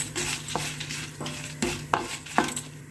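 Chana dal and urad dal are stir-fried in a pan, with a soft continuous sizzle broken by several sharp scrapes and knocks of a spatula against the metal.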